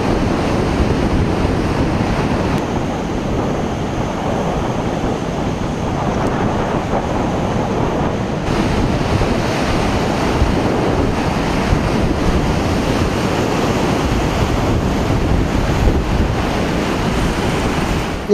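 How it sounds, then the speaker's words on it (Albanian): Waves from a rough sea crash against and over the walls of a seaside promenade as a strong wind blows, making a loud, continuous roar of surf and buffeting wind noise with no voices. "dallgët në një det të trazuar shpesh kalonin mbi muret pritës të shëtitores duke krijuar pellgje ujë"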